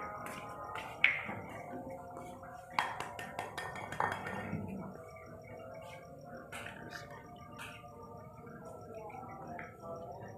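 An egg cracks against a bowl and drops in during home cake baking, with a sharp clink followed by a few smaller taps and knocks, then quieter kitchen handling sounds.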